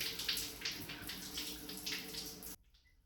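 Water running from a bathroom tap in an 1890 Victorian house, a steady hissing splash with slight pulsing, close by, that cuts off abruptly near the end, leaving near silence.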